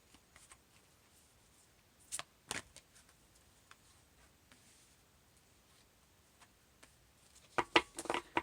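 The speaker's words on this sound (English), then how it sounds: "feel free to skip ahead if you do not want to sit through the live shuffling of the cards" Tarot cards being shuffled by hand, quiet and close, with long soft stretches broken by a few sharp riffles and a louder burst of card flicks near the end.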